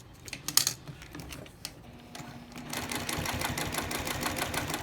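A sewing machine stitches a zipper pouch for a small wallet: brief bursts of rapid mechanical clatter early, then a sustained fast, even whirring run of stitching, close and fairly loud with no talk.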